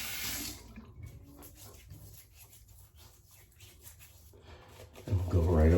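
Hot water runs from a tap onto a shaving brush, a soft splashing that swells loudly near the end, heard close with someone talking over it.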